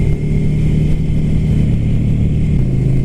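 A Ducati Scrambler Flat Track motorcycle engine is heard close up while riding, a loud, steady mid-pitched throb with slight rises in revs and no voices.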